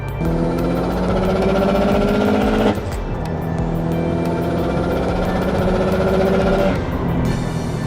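A Subaru Legacy GT Spec B turbo engine accelerating hard in sport sharp mode, its loud droning note climbing in pitch through the revs, with a gear change near three seconds and another near seven, heard from inside the car.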